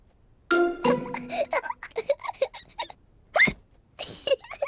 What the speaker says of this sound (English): George drank his juice too quickly and now he has hiccups